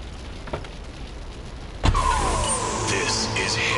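A car in the video game GTA 3 starts to drive off with a sudden thump and a rising engine whine that carries on steadily, close and moderately loud over a low background hum.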